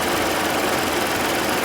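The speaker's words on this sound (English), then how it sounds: "But the number 2 fan you can see is running." A Lincoln MKX idles with its number 2 electric cooling fan running and the air conditioning on, giving a steady, loud engine hum and fan whir.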